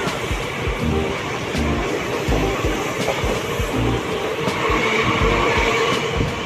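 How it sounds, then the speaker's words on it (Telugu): A train pulling into a station makes a loud, continuous rolling rumble nearby, with repeated low thumps from the wheels and faint higher rattles, and no talking. "ట్రైన్ వచ్చింది. వెళ్తున్నాం ఇంకా."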